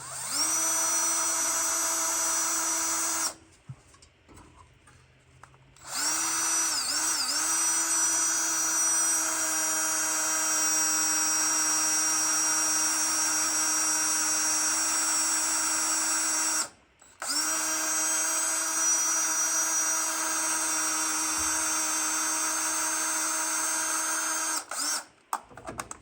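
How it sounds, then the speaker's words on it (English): A power drill drilling a pilot hole near an S10 engine mount whines steadily at high pitch, stopping briefly twice before starting again, close and loud throughout. "So I'm gonna drill me a pilot hole."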